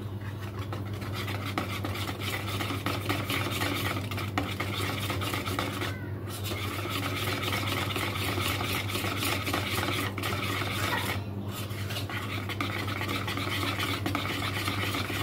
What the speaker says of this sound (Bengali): এখানে আমি 1 চামচ জল দিয়ে দেবো, 1 চামচ জল দিয়ে দেবো, দিয়ে ভালো করে এটা আমি ফেটে নেব।